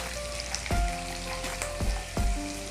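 A paste of onion, coconut and whole spices fries in a pan for misal, a soft sizzle broken by a few sharp metallic taps of a spoon against the pan.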